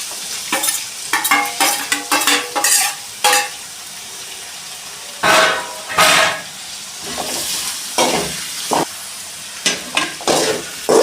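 Onions stirred and frying in a pan for street-style pav bhaji, a steady close sizzle broken by repeated bursts of spatula scraping and stirring, with no voices.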